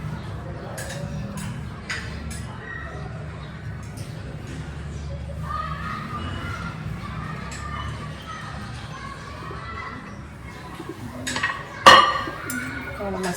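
A spoon mixes ingredients in a bowl, making repeated clinks and scrapes against the dish with one sharper clatter near the end, while someone talks over it.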